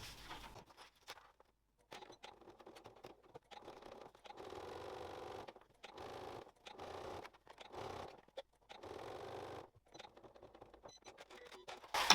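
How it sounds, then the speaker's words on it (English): A sewing machine top stitching fabric for a beanie runs in several steady whirring bursts separated by short pauses, close and fairly quiet, with small clicks between runs. "So there we go, that's top stitched."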